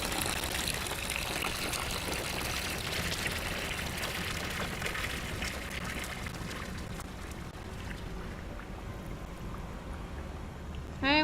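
Liquid pours steadily from a brewing vessel into a fermenter in the Brewmaster beer brewing simulator, a continuous watery gush that holds for several seconds before thinning out, with a brief clink near the end.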